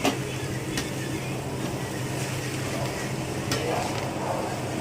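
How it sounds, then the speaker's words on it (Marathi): Fenugreek greens are stirred into a pan with tomato, and the mixing brings a steady, moderate sizzle with continuous scraping and rustling. A few brief knocks of the spoon cut through. "भाजी टाकून घ्यायची, सर्व काही मिक्स करून घ्यायचं."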